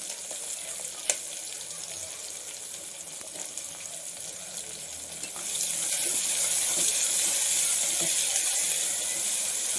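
Chopped onions with curry leaves frying in a pan for beetroot palya give a continuous, hissing sizzle that stays steady throughout and grows noticeably louder and brighter about halfway through.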